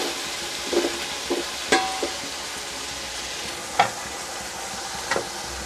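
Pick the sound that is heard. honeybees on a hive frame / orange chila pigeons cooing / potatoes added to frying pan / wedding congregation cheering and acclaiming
potatoes added to frying pan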